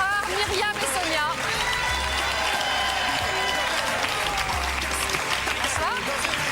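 Loud, sustained audience applause with cheering from a French television variety show crowd, steady clapping filling the whole stretch.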